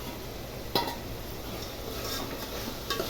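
A utensil scrapes and clinks against a pan while fried tamarind-leaf mettallu are stirred in, a couple of sharp knocks standing out over a soft, steady background.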